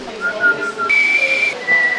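Someone whistles a short series of clear, high notes close by, with brief pauses between the held tones.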